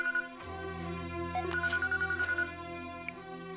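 A telephone rings in a film scene, its electronic ringtone pulsing in repeated short bursts over a sustained low musical drone, with no one talking.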